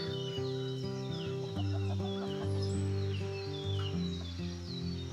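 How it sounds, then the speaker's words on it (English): Chickens, including a black-and-white speckled rooster and hens, clucking and murmuring close by, with repeated short calls over a steady background hum. "this is a rooster here that's kind of black and white speckled"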